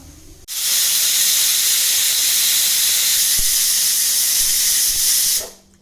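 A loud, steady jet of hissing steam releases abruptly from a pressure cooker, holds for several seconds, then cuts off, close to the listener.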